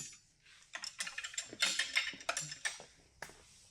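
A ratchet wrench turning a bolt on a Pontiac Firebird being prepared for drag racing, heard as a close, quick series of clicking ratchet strokes in short bursts, with no talk over it.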